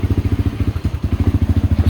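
A 2019 Tao Raptor 200cc ATV engine running close by, a loud, rhythmic chugging idle with regular pulsing exhaust beats and some mechanical clatter, no talking.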